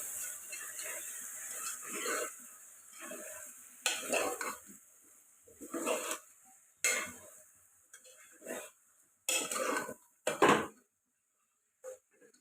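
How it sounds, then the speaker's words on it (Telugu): Country chicken pieces stirred through oil in a pot with a spoon, repeated scraping bursts with a light sizzle between them, close and fairly loud, no talk. "ఇప్పుడు చికెన్ వేసుకున్నాం కదండి శుభ్రంగా కలుపుకుందాం ఆయిల్ బాగా పట్టేలాగా"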